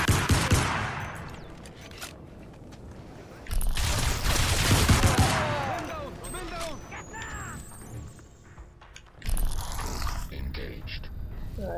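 Crysis Remastered firefight with heavy bursts of covering gunfire arriving in three loud waves, ringing shell-casing clinks and mechanical rattles between them, with quieter gaps of echoing shots.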